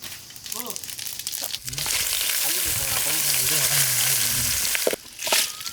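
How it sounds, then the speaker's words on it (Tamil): Dried red chillies and coconut fry in hot oil while being stirred, a steady loud sizzle running throughout with a voice speaking over it and brief pauses near the end. "வரமிளகாயமும் தேங்காயும் சேர்த்து போட்டு எண்ணெயில் போட்டு கிண்டிக்கிறேன்."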